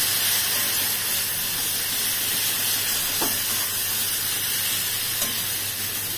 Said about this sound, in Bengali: পেঁয়াজ, কাঁচা লঙ্কা বাটা দিয়ে এটা আমরা একটু কষিয়ে নেব।